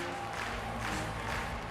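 Dense applause and crowd noise from a large audience, steady and continuous throughout, with a faint murmur of voices mixed in.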